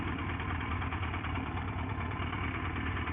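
A motorcycle engine runs steadily on a gravel driveway, a constant, even low rumble heard close with no change in pace.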